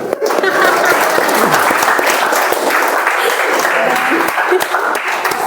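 An audience at a club meeting breaks into dense, loud applause that holds steady for several seconds, with voices mixed into the clapping.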